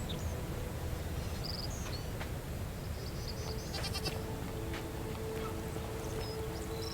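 A goat bleats in the video game The Forgotten City, with a few short calls over steady ambient game background noise, moderately near with no talk.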